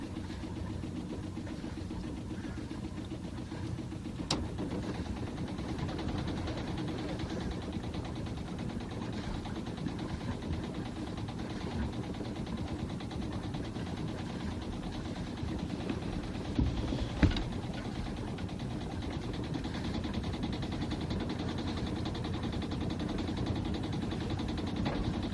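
A sailboat's engine runs with a whine, giving a steady, unbroken drone and hum from start to finish. A couple of faint clicks sit on top and no one speaks.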